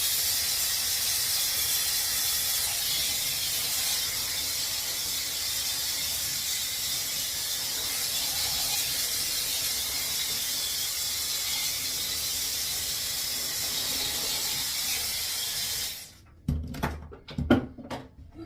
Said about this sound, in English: Hit it with a blow dryer, cool blow dryer.